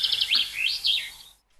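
A short, bright bird song of rising and falling whistled chirps plays clearly for just over a second before stopping.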